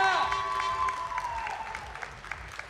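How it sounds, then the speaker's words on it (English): Moderate audience applause and scattered cheering in a hall at an esports grand finals LAN event, with soft clapping running continuously at a middle distance. "Let's hear some applause"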